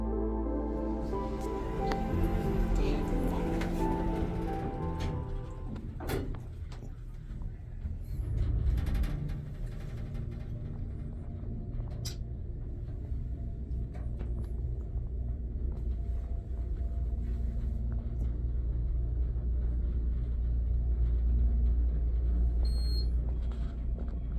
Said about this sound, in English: Let's take a ride in this lift.